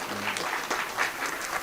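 At a Hindi poetry gathering, an audience claps briefly at moderate distance, a thin, fairly quiet patter with a few sharper hand claps standing out.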